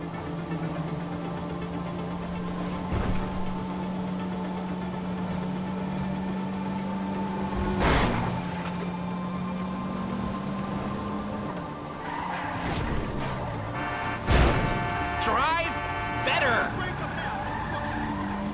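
A car in a video game drives with a steady engine hum, then tires squeal and skid in several sharp bursts near the end, with voices talking over it.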